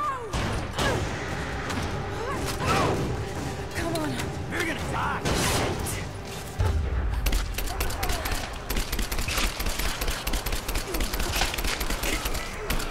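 Assault rifle fire from Rise of the Tomb Raider crackles in dense bursts with mechanical clatter throughout, switching to a heavier, louder barrage partway through, with voices talking over it.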